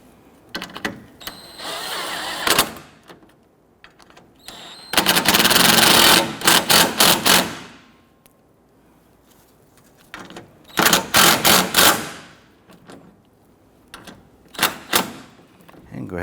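A power ratchet or impact tool snugs down bolts on a 2006-2014 Honda Ridgeline AC condenser in repeated loud bursts of rapid clattering, separated by short quiet gaps and small clicks.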